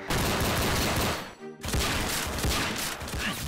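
Rapid bursts of gunfire from a shooting video game fill the scene, loud and nearly continuous, with a brief drop-out in the middle before the volleys resume.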